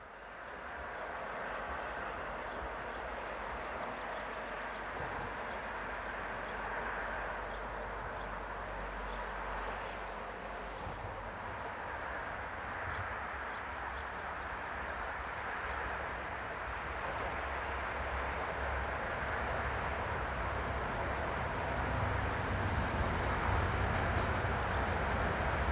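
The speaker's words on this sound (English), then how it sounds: "In the opposite direction we see MRCE High Loco number" An MRCE electric locomotive, number 185565, hauls a train past on a European main line, a steady broad rumble of wheels and motors that holds for the whole stretch and swells slightly toward the end, with no voices.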